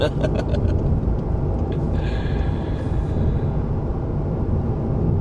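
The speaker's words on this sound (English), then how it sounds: "we're going at 90 kilometers per hour" A Volkswagen Golf GTI MK7.5 cruising at highway speed of about 90 km/h, a steady loud rumble of road and engine noise from inside the car.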